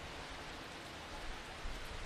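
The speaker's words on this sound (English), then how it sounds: "The rain cascading down." Heavy rain pours down steadily over an outdoor football match at night, a dense continuous wash of hiss with no voices, level throughout with slight swells near the end.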